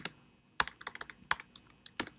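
Computer keyboard typing in quick irregular bursts of key clicks, close and fairly quiet with no talking.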